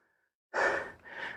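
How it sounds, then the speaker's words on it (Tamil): Heavy panting from someone climbing a steep mountain trail near Keeranur on Kondarangi hill, two loud close breaths in quick succession after a brief silence. "பயங்கரமாக மூச்சு வாங்குது ஃப்ரெண்ட்ஸ், பேசவே முடியல."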